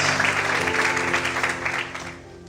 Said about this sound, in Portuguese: Mais fortes palmas.